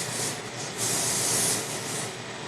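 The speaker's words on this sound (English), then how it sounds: "spray down your pan" Non-stick cooking oil is sprayed onto a pan in a steady hiss that swells briefly in the middle, close and fairly quiet, with no talking.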